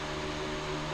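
An electric fan runs in a hot garage, a continuous broadband whoosh with a faint steady hum, close and even throughout with no voices.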